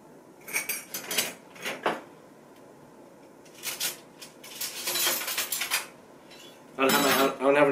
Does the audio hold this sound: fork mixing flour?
yes